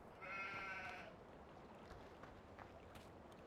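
A sheep in Farming Simulator 15 gives a single short bleat near the start, fairly clear over a steady low background hum, then only quiet ambience remains.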